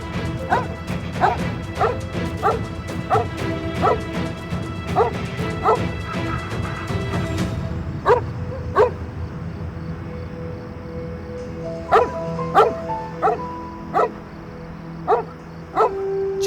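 A dog barks repeatedly in sharp, loud, evenly spaced yaps, first in a rapid run and then in sparser bursts over a steady background hum.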